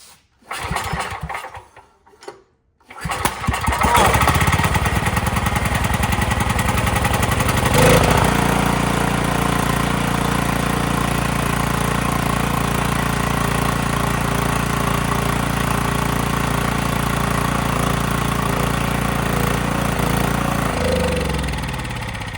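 A 5000 W generator engine fires up after a few faint sounds, then runs loud and steady at close range with a constant droning hum and a brief surge near the start.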